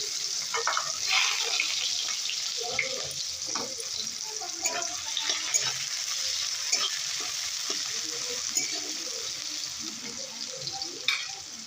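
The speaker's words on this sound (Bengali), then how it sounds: "তেলটা গরম হয়ে গেছে, পেঁয়াজ কুচি দিয়ে দেব।" Chopped onions sizzle in hot oil in a wok, a steady close frying hiss broken by scattered crackles and occasional stirring scrapes throughout.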